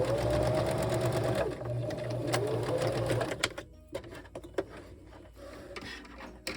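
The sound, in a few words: sewing machine stitching a pad cover seam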